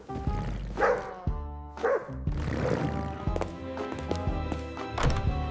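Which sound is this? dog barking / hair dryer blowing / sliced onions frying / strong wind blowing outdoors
dog barking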